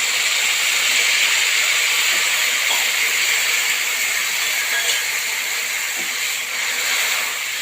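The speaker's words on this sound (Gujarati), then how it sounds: "અને હવે પાણી રેડવાનું છે મસાલા બળી ના જાય એના માટે।" Water is poured onto hot frying spices, including homemade garam masala, for a cabbage, cauliflower and tomato curry, producing a loud, continuous steamy hiss that holds steady the whole time.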